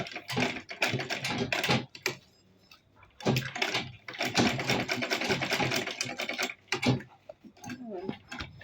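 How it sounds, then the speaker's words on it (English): Sewing machine top stitching a homemade DIY purse, running in several bursts of rapid mechanical stitching with brief pauses between runs, close and fairly loud. "come here like this, and top stitch it"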